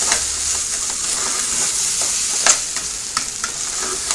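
Pieces of meat for stroganoff sizzle in hot oil as a utensil stirs them, giving a close, loud frying hiss broken by occasional scraping clicks against the pan.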